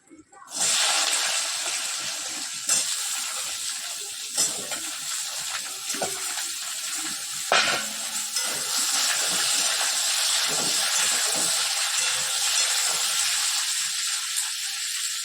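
Cumin seeds and dried chillies dropped into hot oil, a loud steady hissing sizzle that begins sharply and carries on evenly with a few spatter pops, with faint background sounds.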